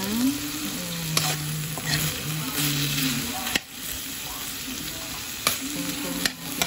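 Meat browning in a frying pan, crackling with a continuous sizzle while a utensil stirs and scrapes in bursts and a voice speaks briefly over the cooking.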